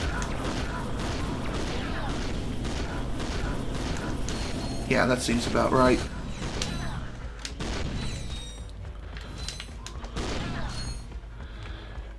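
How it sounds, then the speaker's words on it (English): Blitz cannon fire in the PlayStation game Ratchet & Clank: Going Commando, heavy shotgun-like blasts bursting through busy game music and effects, loudest in a cluster mid-clip, with someone talking over the action. "I may just want to use the blitz cannon here"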